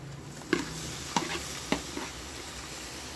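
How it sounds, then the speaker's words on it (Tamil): Tomatoes being stirred into frying onions and green chillies in a pan give a steady, faint sizzle, broken by three or four distinct scrapes and knocks of the spoon against the pan. "தக்காளி போட்டு கிண்டி விட்டுருங்க"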